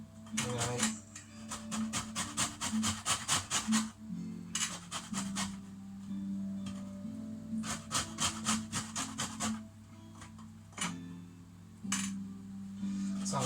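Rhythmic scraping of a zester across lemon peel, bursts of quick rasping strokes separated by short pauses over a steady low kitchen hum, fairly close and alone without speech.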